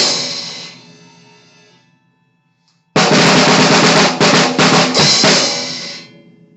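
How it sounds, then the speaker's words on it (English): A snare drum fill: a loud, bright burst fades out, then after a short silence a dense run of rapid snare strokes comes in, close and loud with a few accented hits. "where you get this little fill in the snare here"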